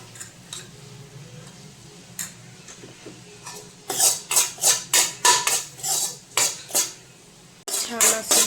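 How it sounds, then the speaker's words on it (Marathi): Besan (gram flour) roasting in a pan for sevai kheer, with a low background hiss under repeated close metallic clinks and scrapes of a spoon against the pan, coming in quick bursts in the second half. "हे चांगलं भाजून घ्यायचं आहे बेसन।"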